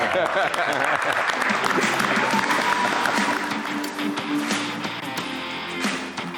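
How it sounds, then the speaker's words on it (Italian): A crowd applauds steadily, dense clapping filling the space at full strength before easing slightly toward the end. "E facciamoli un applauso."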